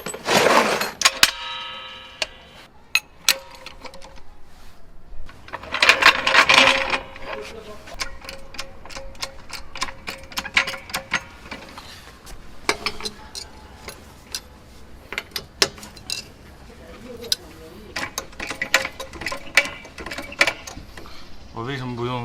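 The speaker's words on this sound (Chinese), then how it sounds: "扭力扳手套筒。" Torque wrench with a socket working on a car wheel during a swap from winter snow tires, giving scattered sharp ticks and clicks of varying loudness, with bursts of handling noise and background hiss.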